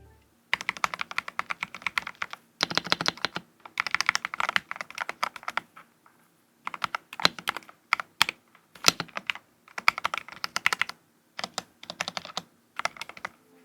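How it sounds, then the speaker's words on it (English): Rapid clicky typing on a slim mechanical keyboard comes in bursts separated by short pauses, each keystroke crisp and close-up, with no talking. "one of the coolest upgrades I have is this high ground keyboard"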